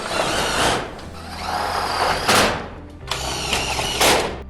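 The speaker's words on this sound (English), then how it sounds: "now we can screw the rest of the flashing off to the sheeting." Power driver sending hex head screws through steel flashing into shed sheeting on an Absco single compact garage, with several short whirring bursts of driving, loud and close, and clattering sheet-metal sounds between them.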